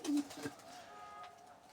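Soft pigeon cooing in a coop, a low throaty coo at the start followed by faint murmuring calls in a quiet space.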